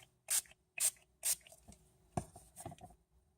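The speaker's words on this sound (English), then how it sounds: "give a light mist on the other side as well" A Stampin' Mist spray bottle gives three quick, close hissing puffs of light mist in a row. Soft handling and dabbing noises follow, with no talking.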